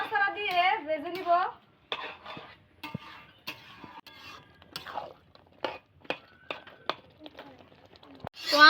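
Pangas fish head frying with taro stems in a pan, stirred with a series of short, separate scraping and clacking strokes at an irregular pace. The sounds are close but quiet, and a voice is heard briefly at the start and end.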